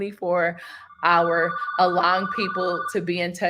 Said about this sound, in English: So that is the phone